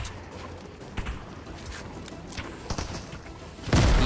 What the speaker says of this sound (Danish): Den skyder kun 2. Hvorfor fanden har den 21 skud?